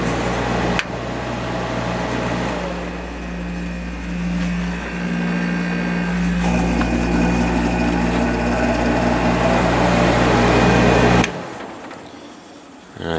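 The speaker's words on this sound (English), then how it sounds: "it's not as smooth as you'd expect out of a reciprocating compressor, but smoother than it was when it started anyway" A Coronado 5,000 BTU window air conditioner with a reciprocating compressor runs close and loud with a steady droning hum and a slight roughness, then shuts off abruptly, leaving near silence.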